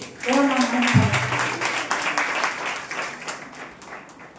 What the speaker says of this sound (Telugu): నమ్మిన చప్పట్లు కొట్టి